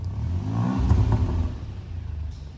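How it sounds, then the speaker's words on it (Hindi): A VRS car with an aftermarket exhaust revving loud with the valves off: a deep, rumbling engine note that swells up around one second and then settles back to a throaty idle burble. "बहुत ज़्यादा लाउड है वाल्व्स ऑफ पर"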